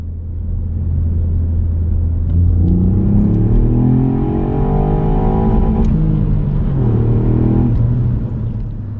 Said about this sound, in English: 2nd gear initially gives more power, but can only get to 57 miles per hour before the engine's rev limiter prevents us from going any faster